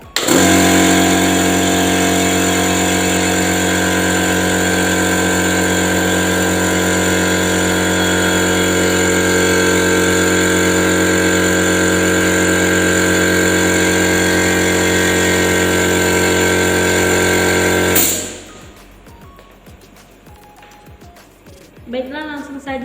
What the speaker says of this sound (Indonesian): terlebih dahulu saya menghidupkan kompresor untuk